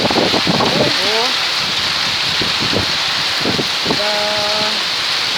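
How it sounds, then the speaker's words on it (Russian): Heavy summer rain with hail pours down steadily and loudly, a dense wash of sound, while people talk intermittently over it. "И град. И дождь."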